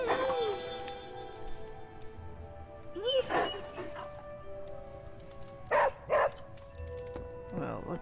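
Charlie, a dog in the video game Midnight Suns, gives a few short yips and barks with whimpery rising tones, spaced out over several seconds against a quiet game backdrop, and someone talks over it.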